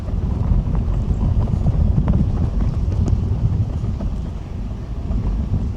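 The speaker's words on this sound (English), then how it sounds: "it's a little bit windy" Steady wind buffets the microphone with a continuous low rumble and rushing noise, loud and unbroken throughout.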